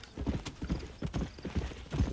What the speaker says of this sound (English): haven't been on a horse in this game